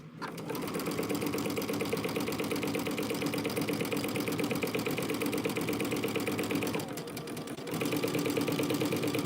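A sewing machine runs a straight stitch on a quilt, a close, loud, rapid mechanical whir that holds steady, dips briefly, then resumes at full speed.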